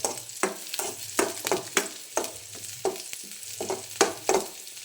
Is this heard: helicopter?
no